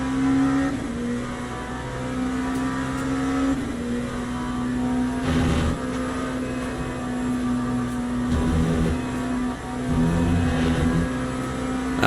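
Hypercar engines drone in a Le Mans Ultimate race, with a steady low engine tone that rises and dips as other cars pass, continuous and fairly loud.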